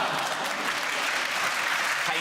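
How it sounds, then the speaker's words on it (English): Studio audience on a British comedy panel show breaks into steady, dense applause that fills the space evenly for a couple of seconds without a break. "It's a painful applause."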